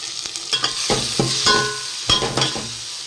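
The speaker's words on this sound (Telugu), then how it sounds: "సిమ్లో పెట్టేసుకొని కొంచెం సేపు టమాటాస్ మగ్గనిద్దాం" Tomatoes cook down in a pan for egg pulao, with a steady soft sizzle broken by repeated scraping stirs of a spoon. No one speaks.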